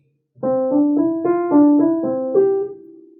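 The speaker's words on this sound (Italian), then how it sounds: "questo è il motivo principale di questa invenzione numero 1, suona così" Piano playing the main theme of Bach's two-part Invention No. 1: a quick run of about eight clear, detached notes rising and falling, ending on a held note that rings and fades, loud and close with no talk.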